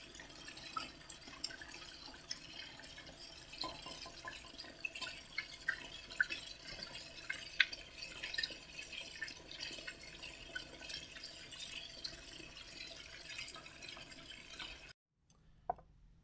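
Vegetable shortening soap dripping through a Buchner funnel under vacuum filtration in a chemistry lab, a steady patter of small irregular drips over a continuous suction hiss, stopping briefly near the end.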